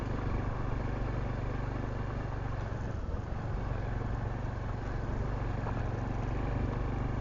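Riding a Honda Trail 125 on an Arizona desert trail lined with mesquite: a steady small-engine drone and constant wind rumble fill the clip at moderate level, with no break.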